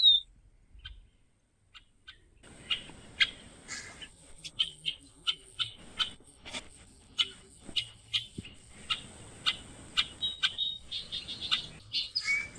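Bright, high chirps of small blackbirds repeat in quick, uneven bursts after a quiet start, several calling close by against faint background hiss.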